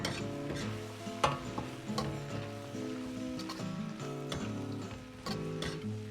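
Dry pot pork ribs with green garlic shoots and cumin stir-fried hard over maximum heat in a wok, a constant sizzle broken by repeated clanking spatula strikes and tossing scrapes, close and busy throughout.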